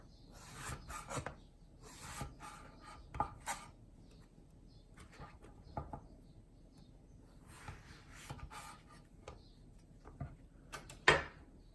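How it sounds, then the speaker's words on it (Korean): Knife strokes slicing eggplant lengthwise into thin flat pieces on a wooden board: scattered short rasping cuts and soft taps, close and fairly quiet, with no talking. "가지 생긴 길이로 잘라서 이렇게 편으로 또 썰어주세요"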